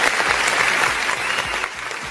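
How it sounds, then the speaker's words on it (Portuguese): Studio audience applause during a live talk show, a dense steady clapping that fills the whole stretch at close range with no voices over it. "dar uma salva de palmas"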